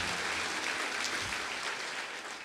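A church congregation claps together in sustained, dense applause that stays steady and fairly loud throughout, with no clear voices over it.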